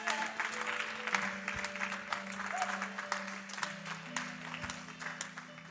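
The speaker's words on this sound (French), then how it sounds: "on peut applaudir ces papas-là" An audience at a live event applauds continuously, with dense clapping held under sustained musical notes for several seconds and no talk.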